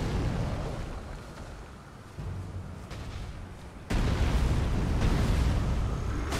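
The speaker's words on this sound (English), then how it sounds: "So you saw that explosion?" In the video game Elden Ring, a blood buildup from Hookclaws bursts in a sudden, loud explosion partway through, cutting in over a rumbling, noisy combat backdrop and sustaining a heavy roar afterward.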